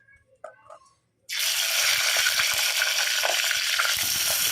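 Tomato pieces dropped into hot oil in a small clay pot for a chutney erupt into a loud, steady sizzle after a moment of quiet and a few faint clinks, then crackle on without a break.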